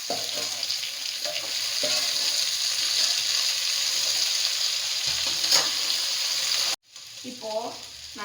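White chickpeas (channa) fry in oil with onion, ginger and garlic, a steady close sizzle with occasional stirring scrapes; it cuts out briefly near the end before the frying resumes.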